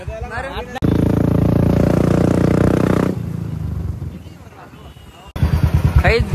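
A motorcycle's exhaust rumbles loudly and throatily, holding steady, then easing off before a burst of choppy revving returns.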